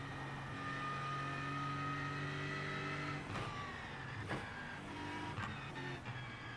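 A slightly damaged GT3 race car engine at Bathurst in the iRacing sim, a steady mid-level engine drone with harmonic tones and a few short bumps and shifts in pitch, with no talking.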